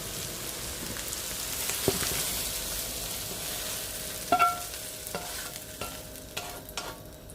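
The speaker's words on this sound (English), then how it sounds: "And stir in the mushrooms." Mushrooms are stirred into a pot of beef bourguignon with a soft, low bubbling backdrop and several distinct scrapes and knocks of a spoon against the pot.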